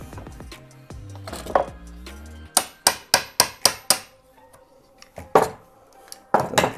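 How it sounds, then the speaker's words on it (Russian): Sharp chisel strikes trimming excess wood from a door frame during a home bathroom door installation, a quick run of about five crisp hits followed by scattered taps and scraping, close and clear with no talk. "И стамеской просто убираю все лишнее."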